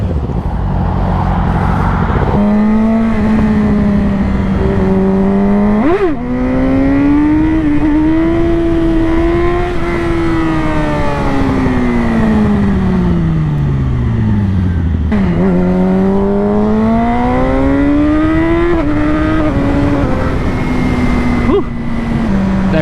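A Yamaha R6 sport bike accelerates hard, its engine note climbing through the revs, with quick shifter upshifts that drop the pitch sharply before it climbs again. The engine is loud and close, with constant wind rush.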